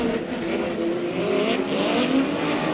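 POWRi West midget race cars running a heat race at Airport Raceway, a continuous loud engine roar with rising and falling revs as the pack passes.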